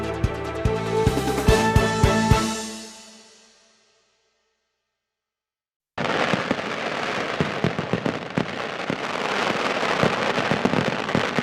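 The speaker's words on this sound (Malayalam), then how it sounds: "വർണ്ണവിസ്മയം തീർത്ത് തൃശൂർ പൂരത്തിന്റെ സാമ്പിൾ വെടിക്കെട്ട്." After a short musical jingle fades to silence, the sample fireworks at Thrissur Pooram erupt in a dense, continuous barrage of rapid crackling bursts and booms.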